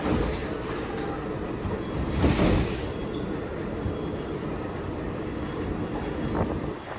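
Walt Disney World monorail on the resort line, heard from inside as a steady rumbling ride with rolling wheel noise and a brief louder surge early on.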